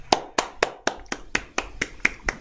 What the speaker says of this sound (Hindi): भाई एक क्लैपिंग हो जाए